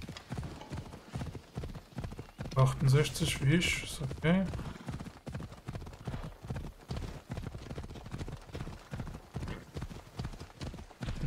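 Horse hooves in the Assassin's Creed Odyssey video game clip-clop in a steady rapid rhythm throughout, with a brief whinny early on and someone talking over them.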